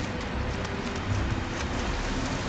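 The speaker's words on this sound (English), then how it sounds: "We can't see shit because it's raining outside." Rain falls in the Nioh video game, a steady, even hiss of drops hitting surfaces that stays constant and fairly loud throughout with no talking.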